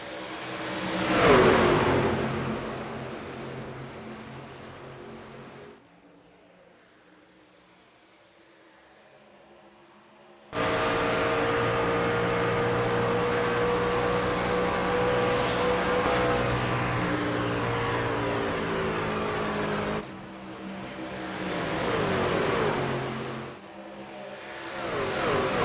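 Race truck engines roaring at the start of an SCRL Truck Series race at Homestead-Miami, loud sustained revving that drops away briefly, then returns as a dense, steady pack drone before fading and building again.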